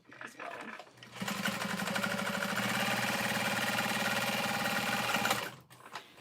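Fleece is machine-sewn into a satchel: after a few quiet moments of handling noise, the sewing machine starts up and runs at a steady, close, humming buzz for about four seconds, then stops abruptly.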